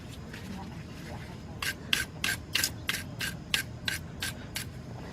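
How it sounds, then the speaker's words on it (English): Rust being scrubbed off the rear brake parts of a 2000 Jeep Grand Cherokee Laredo, a run of about ten quick, sharp, close scraping strokes in a steady rhythm after a quieter start, with no talking. "I want to make sure we get all that rust off of there."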